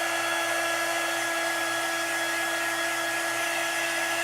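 A hair dryer blows steadily, a constant loud whooshing hiss with a faint high motor whine running unchanged throughout.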